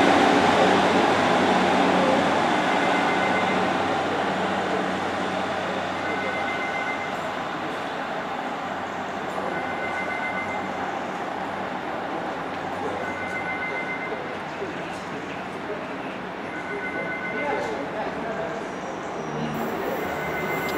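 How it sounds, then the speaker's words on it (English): A Great Western Railway service leaves Newton Abbot station for Exeter St David's, rumbling steadily with rhythmic wheel clatter and faint squeals as it pulls away from the platform. "Goes the 1935 service to Exeter St David's"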